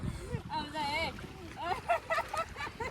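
A small boat moving on water at a fairground, with a soft wash and splashing beneath people talking and chattering throughout.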